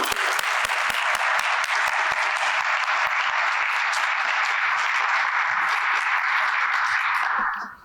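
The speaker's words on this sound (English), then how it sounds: "please give a warm round of applause for Brother Rene Renteria" An audience at an art showcase applauds warmly, with dense sustained clapping from a crowd that starts at full volume and holds steady for several seconds before cutting off at the end.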